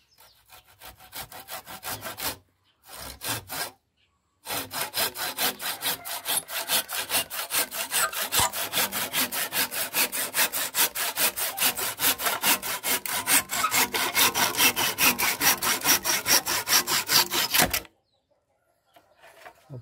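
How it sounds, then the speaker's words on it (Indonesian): A hand saw cuts through wood for a hoe handle in fast, regular back-and-forth strokes, loud and close, starting with a few hesitant pulls and ending abruptly. "Kita memotong kayu terlebih tadi itu."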